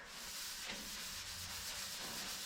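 Sandpaper rubbing across a 1970s–80s second-generation Camaro door panel before high-build primer, a faint, continuous scratchy friction with subtle back-and-forth strokes, close and quiet.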